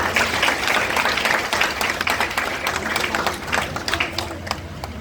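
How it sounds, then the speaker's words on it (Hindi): Loud applause for the children at a church farewell gathering for the parish priest in Shahdol, many hands clapping fast and dense, with crowd murmur underneath. "सभी बच्चों के लिए जोरदार तालियां।"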